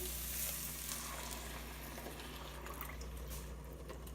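Coconut milk poured from a whole can into a curry pan with tofu, giving a steady, close sizzle with soft liquid bubbling and stirring throughout, no talking.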